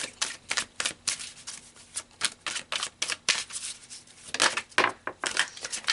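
Tarot cards being shuffled up close, a run of crisp riffling flutters and soft slaps in quick irregular bursts, fairly quiet and with no talking.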